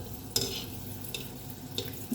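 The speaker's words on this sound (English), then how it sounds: "Be sure to keep stirring them in oil and not leaving them in one place, so that they don't get burnt." Gulab jamuns frying in oil while being stirred, a soft steady sizzle with a few brief scraping clinks of the spoon against the pan.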